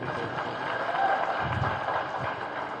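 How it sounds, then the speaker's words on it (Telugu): An audience claps at a political meeting, a steady wash of many hands sounding from a moderate distance, even in level, with no clear pauses. "నమస్కారం స్వీకరించినట్లయితే చప్పట్లు కొట్టవచ్చు."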